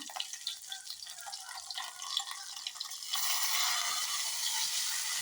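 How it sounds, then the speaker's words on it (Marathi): Tempering spices crackling and spitting in hot oil while making coconut chutney, with close, irregular pops that thicken into a dense, steady sizzle after about three seconds. "छानसं असं तडतडलं"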